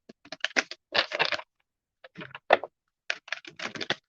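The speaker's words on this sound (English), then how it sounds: "Just giving these a little shuffle" Papery riffling and soft slaps in quick bursts, tarot cards being shuffled close up, with short pauses between rounds.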